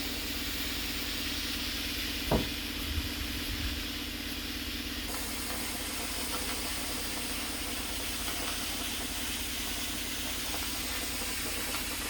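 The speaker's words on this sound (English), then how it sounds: "we are just going to just steam that yarn" Steady, soft hiss of steam as it is applied to freshly spun yarn to set the twist, a continuous, faint, even rush with a low background hum and a small knock near the start.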